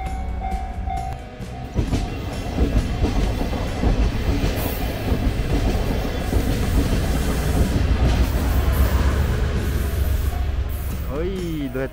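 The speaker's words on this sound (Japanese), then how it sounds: "電車来た、電車来た。" A train rumbles past a level crossing in Japan with rattling wheels and rushing noise that builds and holds, while voices talk nearby and a brief whine rises near the end.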